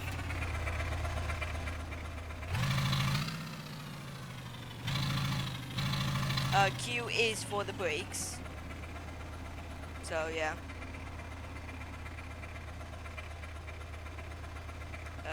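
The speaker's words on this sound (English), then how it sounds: "just press F for the starter motor" An 8x8 truck engine idles in GearBlocks, a low, steady mechanical drone running throughout under someone talking, with a few brief louder bursts.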